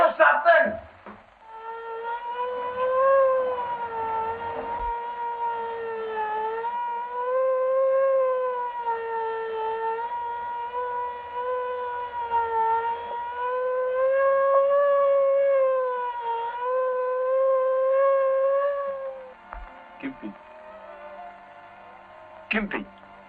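An ambulance siren in an old drama film, a sustained wavering wail lasting most of the scene, with brief voices at the start and end.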